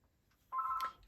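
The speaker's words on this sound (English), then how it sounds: "And of course the phone rings." A landline telephone rings once with a steady electronic tone in a quiet room, a short sharp burst that cuts off abruptly.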